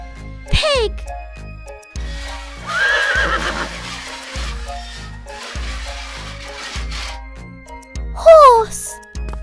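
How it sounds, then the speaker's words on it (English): Cartoon horse from a children's farm nursery song whinnies twice, loud rising-and-falling neighs at the start and end, over a bouncy musical backing with steady beat. "Horse."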